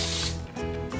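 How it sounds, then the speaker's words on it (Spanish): Cooking spray hisses from an aerosol can onto a sheet of plastic wrap in a kitchen, one short close burst, broken briefly before a second puff, while baking a Salvadoran yolk cake. "vamos a agarrar un pedazo de plástico y le vamos a poner un poquito de cooking spray"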